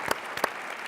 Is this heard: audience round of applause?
yes